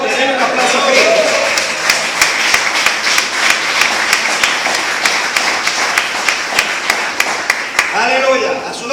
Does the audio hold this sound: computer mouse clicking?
no